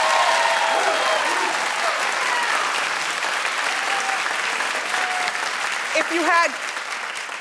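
Studio audience on a daytime talk show breaks into loud sustained applause and cheering, with a voice and scattered shouts rising above the crowd.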